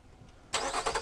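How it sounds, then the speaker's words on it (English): A 2013 Infiniti JX35 SUV engine starts remotely from the key fob in cold weather, a sudden loud crank and catch after a quiet moment, then settling into a steady idle, heard up close with no talking. "you hold the start button, and it starts the car"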